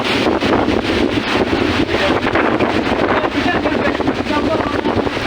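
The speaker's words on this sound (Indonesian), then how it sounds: "Angin kencang serta gelombang setinggi 2 meter menerjang wilayah pesisir pantai" Loud, constant roar of strong wind buffeting the microphone on a coast at Pasar Wameo, Bau-Bau, with a broad rushing wash of 2-metre waves beneath it and no clear speech.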